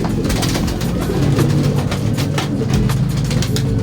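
Racing pigeons cooing at the loft in low, repeated murmurs, fairly close, over steady rumbling background noise and some faint rustling.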